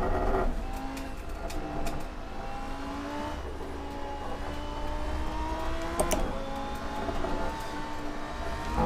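A Lamborghini race car in the Assetto Corsa racing game holds a steady, droning engine note at high speed, with pitch changes as it brakes into a chicane. The sound is continuous, with faint tire noise and no speech.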